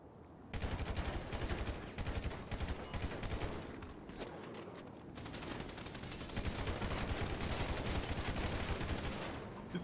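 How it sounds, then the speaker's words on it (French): Gunfire in a video game during a patrol, with dense bursts of automatic shots crackling almost without pause across the whole stretch, loud and close, broken only by a brief lull near the middle. "il me tire dessus là"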